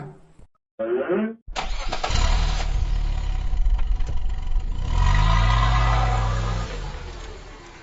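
A cartoon car's engine cranks, catches and keeps running at a steady idle, loud and close and heard alone.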